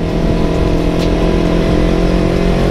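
A Kawasaki Ninja 250 FI motorcycle fitted with an Akrapovic exhaust, running on a ride toward Bogor, Indonesia, with a loud, steady, close engine drone and wind rush that fills the whole short stretch.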